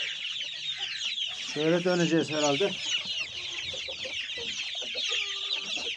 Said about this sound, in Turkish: burada da normal köy tavuğu çeşitlerimiz var